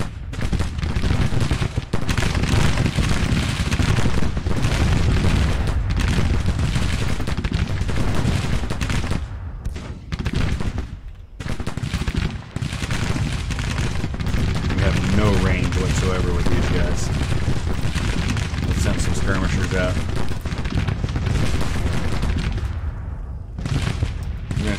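Musket volleys crackle and roll continuously across a Civil War battlefield in Grand Tactician: The Civil War, dense overlapping gunfire and booms filling the scene at high volume, with a brief lull partway through.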